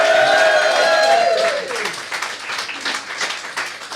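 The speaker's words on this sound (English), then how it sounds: "big round of applause for the food programme!" A studio audience bursts into applause with cheering that starts loud and full, then thins into scattered clapping as it dies down.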